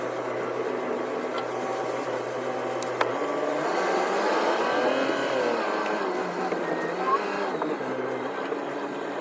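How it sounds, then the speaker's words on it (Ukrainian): Loader and tractors left idling on a farm in France, a steady, continuous engine drone that stays even and fairly close throughout with no clear revving. "Оце стоїть погрузчик, там трактор далі стоїть, он синій трактор стоїть. Нічого не глушиться."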